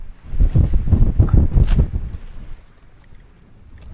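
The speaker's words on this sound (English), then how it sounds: "no tent takes away from that wind noise" Strong wind buffets a tent on a Lake District summit, with heavy low rumbling gusts that swell and fade irregularly and batter the microphone up close.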